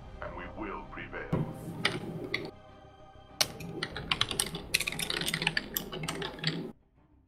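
Rapid, irregular clicking of computer keyboard keys being typed on during a Titanfall Hardpoint Domination match, dense bursts that pause briefly and resume, close and moderately loud alongside speech.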